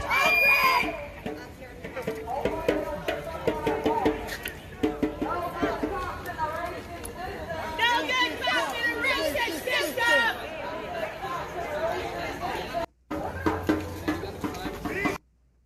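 A street crowd outside a police precinct pulls back from officers, with agitated chatter, shouts and scattered screams in a loud, restless mix of many voices, cut by a brief silence near the end.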